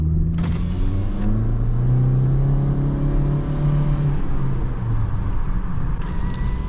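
A 2017 Toyota Corolla iM with a four-cylinder engine revs steadily outside the car, a raspy exhaust drone rising and falling in pitch as the throttle is held, close and continuous throughout.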